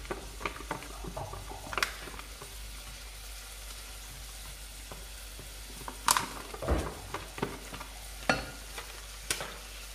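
Bacon frying in a pan for a simple alheira and farofa dinner, giving a quiet, steady sizzle broken by a few sharper crackles and light stirring taps.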